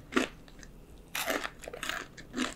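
Someone bites into and chews a warm fig in a home kitchen, giving a few close, soft bursts of moist chewing and crunching with short pauses between them. No one talks.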